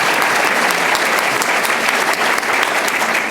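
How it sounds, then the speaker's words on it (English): Loud, sustained round of applause for a speaker at a panel on Chicago city politics, a full crowd clapping densely and evenly from start to finish with no pause. "round of applause for Dan"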